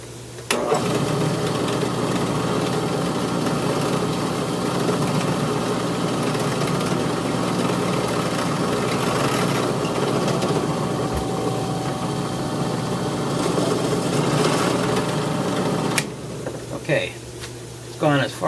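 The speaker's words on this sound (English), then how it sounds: "hold it down and raise the table up so that I can drill the rest of the way" A drill press bores through a scroll saw blade holder with a steady, loud motor drone and grinding that runs continuously for about fifteen seconds, then cuts off, leaving a few brief clunks.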